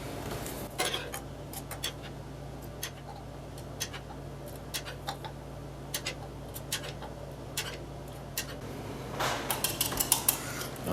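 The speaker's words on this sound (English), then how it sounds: "let's scoop that fat out of there" Beef fat being scooped from a skillet while making creamy beef stroganoff: a low background hiss with scattered light spoon clinks and scrapes against the pan, busier toward the end.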